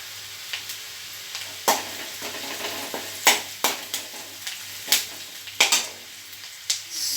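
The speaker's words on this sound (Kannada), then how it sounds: "ನಾನಿವಾಗ ಕರಿಬೇವಿನ ಸೊಪ್ಪು ಹಾಕ್ತಾ ಇದ್ದೀನಿ." Curry leaves dropped into hot oil for tempering crackle and sizzle steadily, with sharp spattering pops and stirring clatter recurring every second or so, close and alone without talk.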